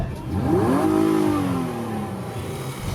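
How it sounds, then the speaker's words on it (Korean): A Nissan Maxima 3.5 engine revs up under acceleration, its pitch sweeping upward and then easing off, heard from inside the cabin with a steady road rumble. "엔진 사운드가 상당한 재미를 줍니다"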